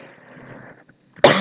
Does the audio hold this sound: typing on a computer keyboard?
no